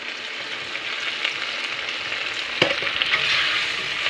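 Food frying in a pan while being stirred, producing a steady bright sizzle with a sharp utensil clack partway through, close and even.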